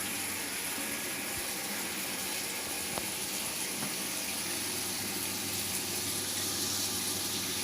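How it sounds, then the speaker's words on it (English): Water gushing steadily under pressure from a Grundfos twin impeller regenerative booster pump rated 3.0 bar, a continuous loud rushing flow with a faint mechanical hum beneath and one small clunk midway. "Can feel the power of the water coming out, that's gushing out with speed."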